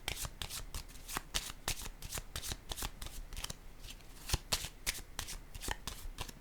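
A deck of tarot cards shuffled by hand in a quiet room, a steady run of crisp riffling bursts and card slaps repeating throughout, close and fairly soft, with no talking.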